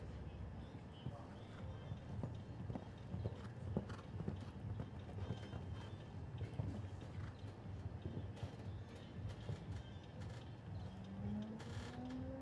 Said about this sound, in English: They're moving along now, and Louis, the Russian combination here, 10-year-old gelding by Ludwig out of Kentucky Mare